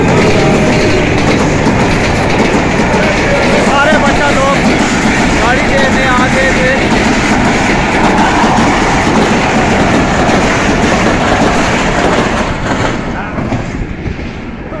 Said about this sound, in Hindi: ये सारे देख रहे हैं गाड़ी आ गई है।